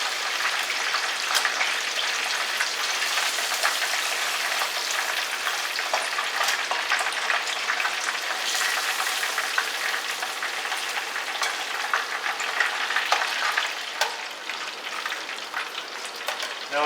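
Buttermilk chicken fries in a pan of oil, a loud, even, rain-like sizzle with fine crackles running throughout, and faint stirring scrapes mixed in, with no talking.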